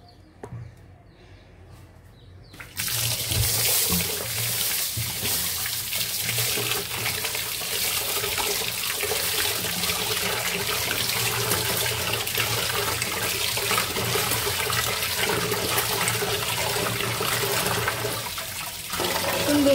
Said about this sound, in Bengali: খিচুড়ি ধুয়ে নিই আমি।